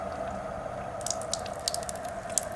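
A Genesis water ionizer dispenses purified water through its filters. A steady stream runs with a constant tone, and small drips and splashes come in and out near the machine.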